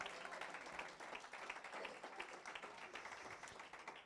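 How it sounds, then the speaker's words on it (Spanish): A church congregation claps and applauds continuously, a dense patter of many hands, faint and somewhat distant. "Dale un aplauso al Señor."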